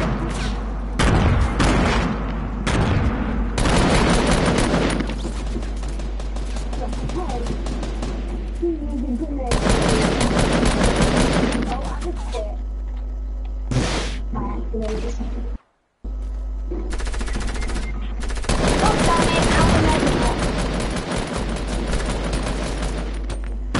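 Gunfire crackles through a Fortnite match in loud, dense bursts of rapid shots and booms, separated by brief lulls, with players talking over the shooting.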